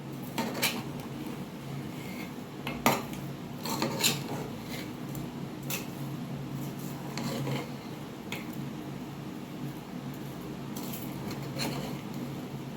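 Spoon scraping and clinking against a pot while mutton tehari rice is stirred and mixed, with irregular metallic taps and rasping scrapes close by, no talking.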